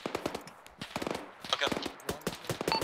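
Rapid bursts of gunfire crackle in the military shooter Arma 3, with many sharp, close shots in quick, uneven strings and a voice talking underneath.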